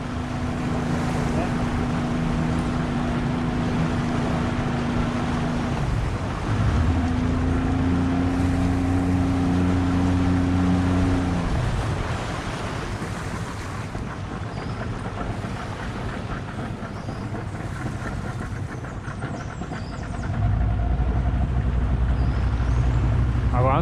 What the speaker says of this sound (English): I mean, it's a Yamaha 2-stroke 85. They're built bulletproof